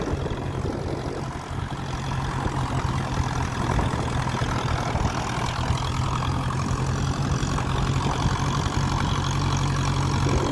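1957 Ferguson 35 tractor with a TVO engine idling, a steady low rumbling drone that holds constant and loud throughout with no speech.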